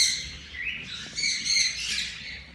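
Yellow ringneck parakeets giving loud, harsh repeated calls and shrill chirps in rising and falling bursts, close by, with no talking.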